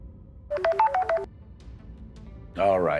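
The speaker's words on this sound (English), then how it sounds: "my phone is ringing." A phone rings with a short melodic ringtone of quick, bright beeping notes over a quiet background. After a pause, a voice begins speaking.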